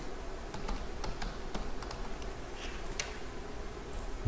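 Steady typing on a computer keyboard while entering text in ARCHICAD 23 software, with irregular clicky keystrokes and a few sharper taps over a constant background hum, close and moderately loud, no speech.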